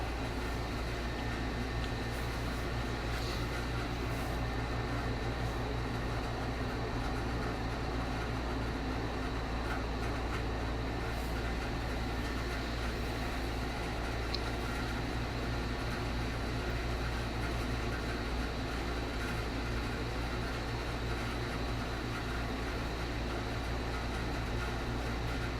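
An air conditioner hums in the background, a steady, unbroken broadband drone at moderate level that runs unchanged throughout, with no other sounds standing out.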